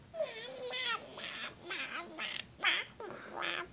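A person imitates a kitty cat's meow, giving a string of about seven short, wavering high-pitched meows in an uneven rhythm, close and fairly quiet.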